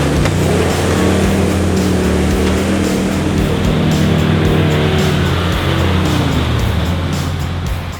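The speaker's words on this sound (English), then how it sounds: "I managed to sort of work the mud out from under the tyres and pull that one through" An LS V8-powered 4WD pulls out of a muddy track at Glasshouse Mountains, its engine a loud, steady, close roar throughout with no talking.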